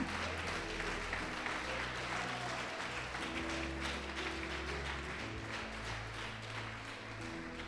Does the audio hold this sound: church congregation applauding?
yes